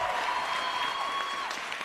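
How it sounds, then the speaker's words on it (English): A hockey arena crowd cheers for a Philadelphia Flyers player, a loud sustained roar with applause-like texture and a few whistles running steadily throughout. "You know why they cheer like that?"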